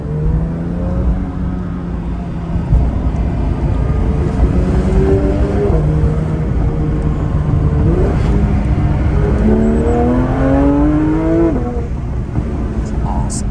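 A Porsche 992 GT3 accelerates hard in first gear, its engine note climbing in several rising sweeps over a loud, steady drone heard from inside the car.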